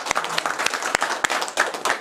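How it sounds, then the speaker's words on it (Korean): Attendees at an alumni association committee meeting clap in a loose, uneven burst, with sparse individual claps rather than a full roar, heard fairly close in a room. "이 자리를 빌어서 왼쪽 박수 한번 해주시고"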